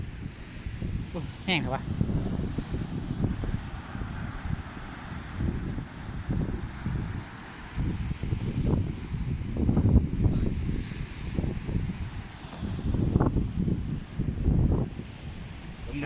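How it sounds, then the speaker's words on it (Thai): Strong wind buffets the microphone at Saeng Chan beach, with rumbling gusts that swell and ease throughout while someone talks over the roar. "ลมแรงมากครับท่านผู้ชม"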